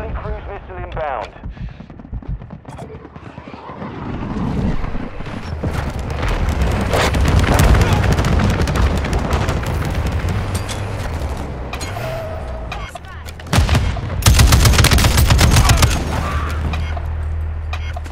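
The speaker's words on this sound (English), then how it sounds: "Friendly cruise missile inbound." A cruise missile strike in Call of Duty Modern Warfare 2 multiplayer, with booming explosions and rolling gunfire in a dense, loud battle roar that swells and then surges again near the end.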